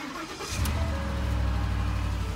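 A Ford Raptor F150 SVT truck, up on jack stands after a frame swap and rebuild, starts up about half a second in and settles into a steady, deep, rumbling idle, close and loud, with no talking.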